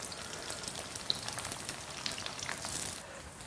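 Tofu pan-frying in plenty of oil gives a soft, steady crackling sizzle with scattered pops, ending in a sharp clatter.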